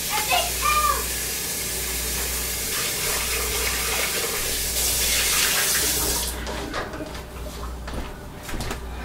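Tap water runs and splashes while a container used for soap making is rinsed in a sink, a steady close rushing stream that shifts in tone and then cuts off near the end, followed by light handling clatter.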